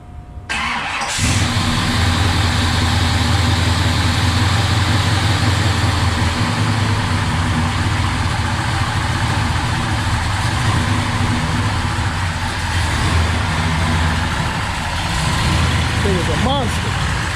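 A car engine fitted with a bigger cam cranks over and fires up, then settles into a loud, lumpy, rumbling idle that carries on close by for the rest of the clip, with no talking.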